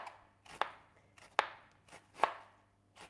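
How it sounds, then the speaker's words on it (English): A knife chops onion on a board in four distinct crisp strikes spaced about a second apart, close up in an otherwise quiet kitchen. "chop up some onion and capsicum"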